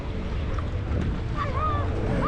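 Sea waves at a beach in Playa del Carmen make a steady broadband wash of surf, mixed with wind buffeting the microphone, close and fairly loud throughout.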